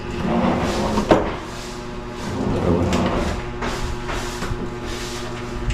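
A kitchen cabinet drawer stocked with spoons slides shut on its own with a soft-close mechanism, giving a muffled thud near the start and a low rolling rumble and rattle, close by and moderately loud.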